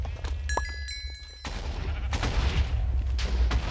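Explosive sheep blowing up in the Minecraft Hypixel Sheep Wars minigame, with a burst of loud booming blasts and rumbling debris that runs on for several seconds after a quieter stretch of bleats and game noise.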